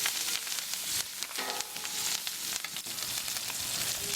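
A filet steak sizzles loudly in garlic herb butter on a Blackstone griddle. The crackle and spatter are dense and continuous, with no talk over them.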